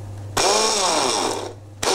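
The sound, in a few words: food processor chopping mint leaves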